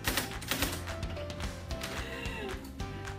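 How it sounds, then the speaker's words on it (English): Rapid clacking keystrokes from a typewriter used by preschoolers, a dense fast run of taps filling the whole moment at close range with background room noise. "whoever's wearing the cow costumes gets to use the typewriter"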